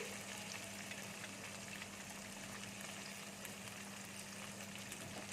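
Okra lightly salted and frying in a pan makes a low, even, continuous sizzle, faint and close, with no other sounds standing out.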